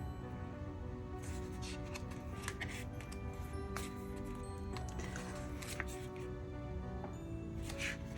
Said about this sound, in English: Let me do a quick flip through because I am halfway through it.